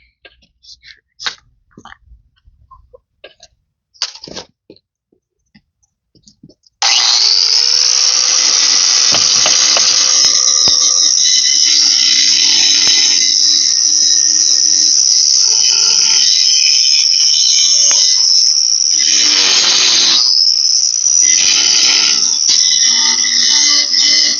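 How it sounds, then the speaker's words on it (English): An angle grinder cutting into welded metal on a four wheeler outdoors in the cold, a loud, sustained high whine that starts abruptly after a few quiet knocks and varies in pitch as the disc bites. "Let's get to grinding."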